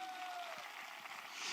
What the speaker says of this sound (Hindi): एक बार फिर इनके लिए जोरदार तालियां